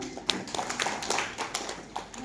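Applause from an audience at an Indonesian community health training session: scattered, uneven hand claps of moderate loudness from a fairly small group, fading toward the end.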